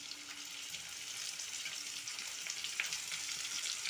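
Onions with ginger fry in a pan, turning brownish, giving a soft continuous sizzle with faint crackles, fairly quiet and steady throughout.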